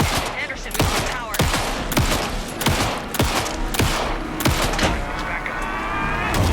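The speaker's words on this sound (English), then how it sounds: "Anderson, pin him down with gunfire for me to get the light on him" Rapid bursts of gunfire ring out in the video game Alan Wake 2, with sharp, loud shots repeating in an uneven rhythm throughout.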